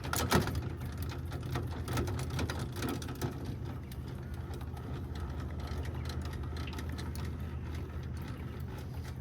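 Caravan jockey wheel being wound down while hitching a Kimberley Karavan, a steady mechanical whirring and ratcheting that runs continuously for several seconds, with a louder rattle at the start.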